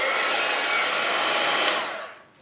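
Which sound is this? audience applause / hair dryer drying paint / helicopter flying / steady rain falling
hair dryer drying paint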